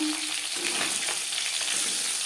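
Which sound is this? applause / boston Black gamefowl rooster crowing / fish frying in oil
fish frying in oil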